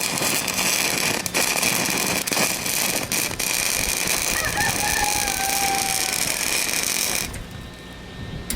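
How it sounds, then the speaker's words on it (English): A rooster crows loudly and nearby, with chickens clucking around it over a dense, rough background of outdoor noise that drops away near the end. "Holy shit, these damn birds."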